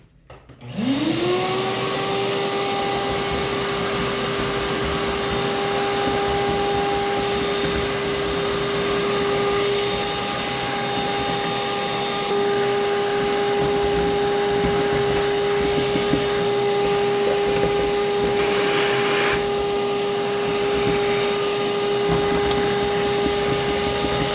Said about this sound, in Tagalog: Gamit tayo ng vacuum.